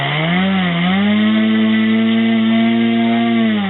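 A brushless motor on an RC airplane, roughly 950 to 980 kV, runs on a test bench with a loud, steady whine whose pitch dips slightly and then holds. The motor is close by and no one speaks.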